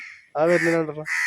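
A crow caws loudly and close by at a home, its harsh calls at the start and end framing a stretch of speech that nearly covers the middle.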